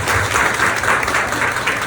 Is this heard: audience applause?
yes